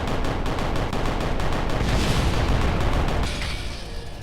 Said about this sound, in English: Just sat there and let me shoot it to pieces.